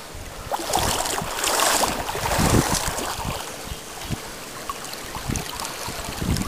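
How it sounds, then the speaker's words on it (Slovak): Strong floodwater current rushes and splashes around someone wading knee-deep through it during floods near Lučenec, a loud, continuous turbulent roar with irregular splashes throughout. "Je to dosť veľký prúd."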